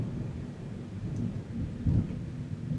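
Thunder rolling during a heavy thunderstorm with rain, a deep rumbling swell that builds and peaks near the end, continuous and fairly close, with no speech.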